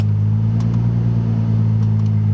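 A Nissan 300ZX idles after being started in a parking lot, a loud, steady low rumble with a deep, even hum and a few faint clicks, close with no talk.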